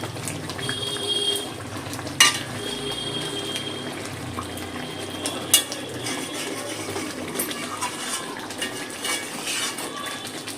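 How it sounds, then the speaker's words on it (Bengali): Stuffed pointed gourd dorma with prawns, ghee and garam masala is stirred in gravy in a pan, soft wet scraping and occasional metal clinks of a spoon against the pot over a low bubbling simmer, with no talking. "একটু নেড়ে ছেড়ে মিশিয়ে নেব পটল আর গ্রেভির সাথে।"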